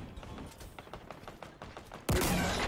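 Rapid gunfire in the video game Halo Infinite, a string of quick light shots followed by a sudden loud blast that lingers to the end, with no talk.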